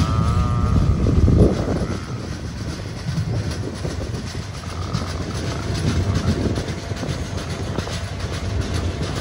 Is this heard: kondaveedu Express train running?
yes